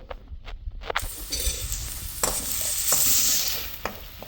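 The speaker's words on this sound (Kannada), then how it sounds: "ಚೆನ್ನಾಗಿ ಫ್ರೈ ಆಗಲಿ, ಇದು ಕೆಂಪು ಬಣ್ಣಕ್ಕೆ ಬರಬೇಕು, ಅಲ್ಲಿವರೆಗೂ ನೀವು ಫ್ರೈ ಮಾಡಬೇಕು" Onions frying with salt in a pan for egg bhurji, a steady close sizzle with a few sharp scraping stirs of a spatula, building slightly louder toward the end with no talk.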